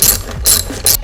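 A hand ratchet clicks in three quick bursts as a bolt is backed out of the Airaid cold air intake on a 2011-2014 Mustang GT, close and crisp with no talk.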